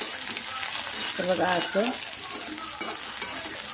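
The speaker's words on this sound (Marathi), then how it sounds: "जिरे मोहरीची फोडणी दिल्या" Cumin and mustard seed tempering sizzling in hot oil, a close continuous crackling hiss with stirring, while someone speaks briefly over it.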